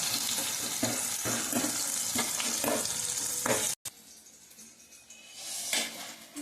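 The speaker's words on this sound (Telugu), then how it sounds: "ఈ 2 కలిపి చక్కగా వేయించుకుందాం." Green chillies, coriander seeds and cumin frying in hot oil in a pan: a loud, close sizzle with rhythmic scraping as the spices are stirred, then a brief cut to a quieter, softer sizzle.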